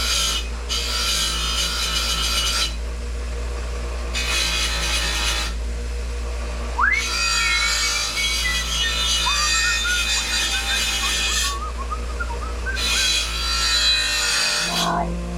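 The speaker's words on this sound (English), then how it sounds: "Let me put it on the wire wheel." A bench wire wheel spins with a steady hum while a Briggs and Stratton Intek valve cover is pressed against it in repeated bursts, bringing harsh scratching and grinding bristle noise.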